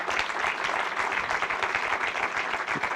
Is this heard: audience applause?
yes